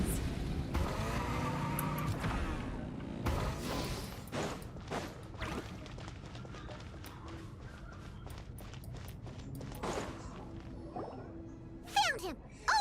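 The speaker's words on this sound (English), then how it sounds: "Rev the engines!" Car engines rev in the video game Genshin Impact, set in Nod-Krai. A loud rolling engine drone runs throughout, broken by sharp whooshes and footstep-like thumps, with a brief burst of louder effects near the end.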